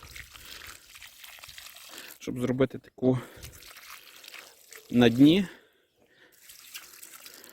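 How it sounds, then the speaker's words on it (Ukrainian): Water is poured into a planting hole in garden soil while peppers and eggplants are planted outdoors, a soft, steady splashing that runs under intermittent speech. "проливаю з водою"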